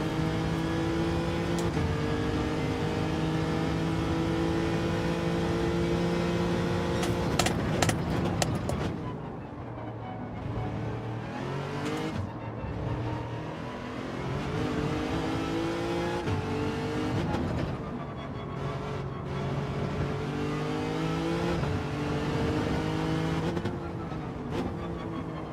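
A race car engine in Gran Turismo 7 revs and drones through gear changes, loud and continuous over a rainy manufacturer race, rising and dropping in pitch with each shift.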